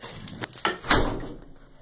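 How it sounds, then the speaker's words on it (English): A door is pushed shut in a studio, with a few sharp knocks and clatters building to a final closing thud that fades out, close and fairly loud. "So, close the door."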